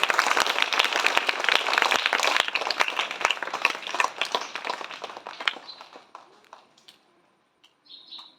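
A crowd at a primary school Independence Day celebration applauds to welcome the chief guest, dense clapping that thins and fades out after several seconds, with birds chirping faintly at the end.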